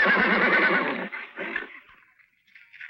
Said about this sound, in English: This your horse, kid?